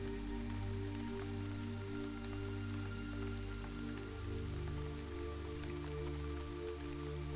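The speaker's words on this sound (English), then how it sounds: "feeling the rain wash over you" Steady rain pours down over an open field, a continuous close hiss of drops striking the ground, with a low droning hum running underneath throughout.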